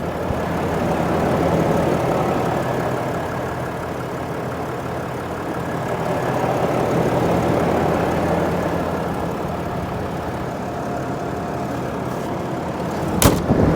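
A 2021 RAM 2500 Mega Cab pickup truck with stock exhaust idles in a steady, low rumble, close and even, with a brief sharper knock near the end.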